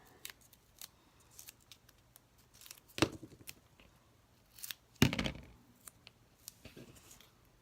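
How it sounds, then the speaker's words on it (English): Scissors snip a small piece of scrap for craft toppers, light ticks leading to two sharp, close cuts with a brief rustle after each. "I'll just cut one more little piece."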